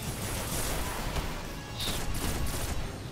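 Gunfire in a video game boss fight, a dense fusillade of rapid shots with a few heavier bursts, loud and continuous throughout with no talking.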